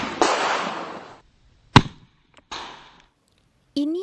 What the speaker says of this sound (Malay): Ini adalah kesan tembakan dari 12 gauge shotgun di bahagian luar helmet